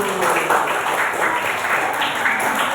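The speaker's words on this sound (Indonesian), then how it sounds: "tepuk tangan dulu." A class of fourth-grade schoolchildren clapping together in a classroom, a dense, loud, continuous round of applause lasting the whole moment.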